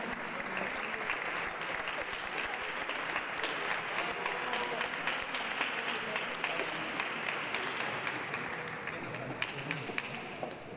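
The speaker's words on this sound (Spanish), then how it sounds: "Demos un caluroso aplauso ahora en el 60 aniversario" A large audience applauds at a 60th anniversary event, dense sustained clapping that continues steadily throughout and tapers slightly at the end.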